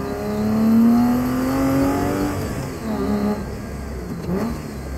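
A car engine revs and pulls through the gears during early morning spirited driving, loud and close, with rising and falling tones that sound like it is heard from inside the cabin.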